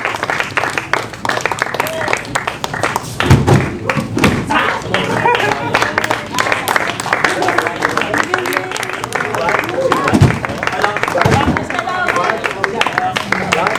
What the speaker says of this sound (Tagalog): Patuloy lang yung palakpak.